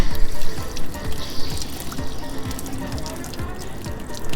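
Water rushes steadily through an RV hot water tank system, a continuous broadband hiss and gurgle at moderate loudness with a few faint voice-like murmurs underneath.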